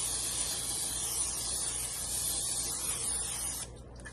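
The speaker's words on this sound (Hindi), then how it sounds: "एयर फ्रायर की बास्केट में हम ऑयल स्प्रे कर लेंगे।" Olive oil sprays into an air fryer basket as a steady, close hiss that lasts several seconds and then cuts off near the end.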